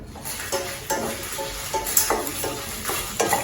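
Urad dal with dried red chillies is stirred in a dry kadai, giving a soft dry rustle and gentle scraping with regular stirring strokes, fairly quiet and steady, with no voices.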